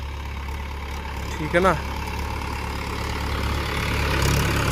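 A 1986-87 Mahindra 475 DI tractor engine idles in a steady low, even rumble that runs throughout, while someone speaks briefly over it.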